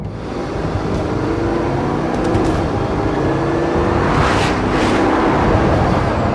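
A Bugatti Veyron Grand Sport accelerates at full throttle, giving a loud, sustained, powerful engine roar close by. The roar holds strong and steady throughout, with a few sharper bursts of rushing noise near the end.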